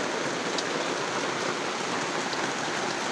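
Rain falls steadily as a dense, even hiss with scattered drops, heard from under a roof during a typhoon-signal storm.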